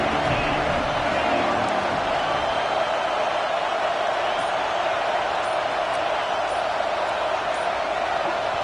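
A stadium crowd in a college football video game with Florida playing, sending up a steady, dense roar that fills the whole stretch without letup, loud and sustained with no pauses.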